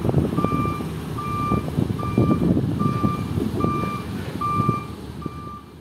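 A trailer truck hauling a bridge girder of about 20 tons rumbles steadily nearby while a reversing alarm beeps in an even, repeating rhythm above the engine noise.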